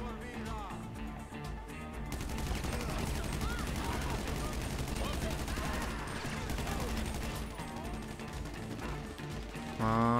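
GTA 5 gunfire with dense bursts of rapid shots, close and continuous through most of the stretch, mixed with game noise and chatter from players.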